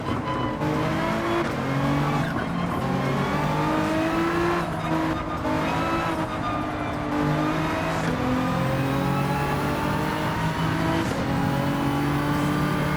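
A racing car engine in Gran Turismo 7 roars steadily through a race, revving up and down through gear changes for the whole stretch, loud and continuous with faint tire squeal and no talk.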